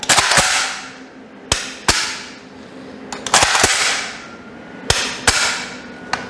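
Sharp mechanical clicks from a JTS shotgun trigger being reset and dry-fired, several loud snapping impacts spaced unevenly, some in quick pairs, each with a brief metallic ring, close and alone with no talk.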